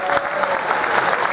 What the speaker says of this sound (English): We got the applause for Janeway.